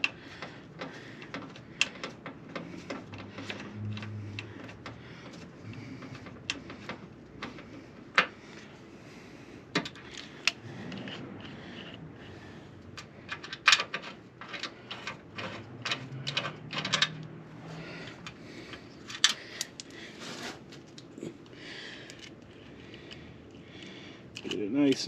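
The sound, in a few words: unthreading a bolt on a Ford Focus Mk1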